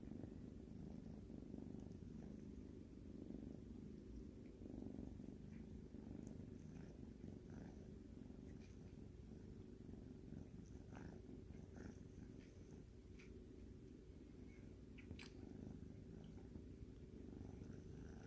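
A kitten purrs steadily and softly up close, a continuous low rumbling vibration throughout with a few faint small clicks and rustles, no voices.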